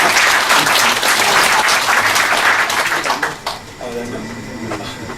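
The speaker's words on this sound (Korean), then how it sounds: "박수로" Audience applause fills a school centennial debate forum at Jeonju High School, dense steady clapping for about three seconds before thinning into scattered claps and quieter room noise.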